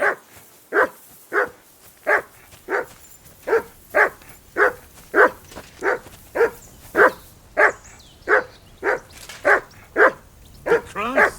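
A dog barks in a steady rhythm in Kingdom Come: Deliverance 2, around eighteen evenly spaced, loud, near barks with a few whining yips at the end and no voices over it.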